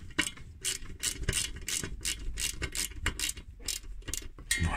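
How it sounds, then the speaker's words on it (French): Rapid ratcheting clicks from a screwdriver driving screws into the rear chassis block of a KITT model car, coming in close, regular bursts with short pauses between turns. "Et on va continuer à visser avec les vis AM l'ensemble du bloc"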